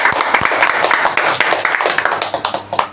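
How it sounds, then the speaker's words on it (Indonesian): Applause for a guest named Jana rings out from a podcast studio audience, a dense, steady patter of clapping with a few louder individual claps near the mic, running throughout. "kita tepuk tangan dulu buat Jana"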